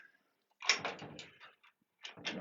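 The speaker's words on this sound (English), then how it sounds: "I'm just locking the doors up." Pigeon loft doors are shut and locked at night, making two close clusters of knocks, clunks and rattling latch sounds separated by a brief pause in otherwise quiet surroundings.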